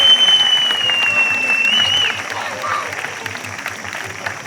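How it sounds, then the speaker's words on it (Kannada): A large audience at a stage event claps loudly and continuously, a dense even patter of hands that eases off slightly partway through, with a voice and a thin tone ringing over the top at the start. "ಜೋರಾಗಿ ಒಂದು ಚಪ್ಪಾಳೆ ನಾನ್ ಸ್ಟಾಪ್ ಬರ್ತಾ ಇರ್ಬೇಕು"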